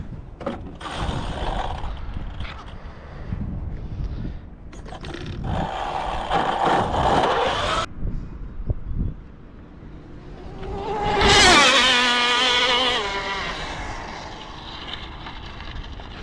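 A 211 mph RC car tearing down a runway on a speed run, its high whine rising and sweeping past, with scraping mechanical noise after.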